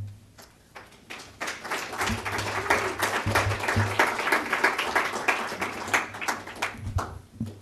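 An audience at an academic lecture applauds after the speaker's introduction, with many hands clapping densely and steadily, building to a full ovation and then thinning out into scattered claps.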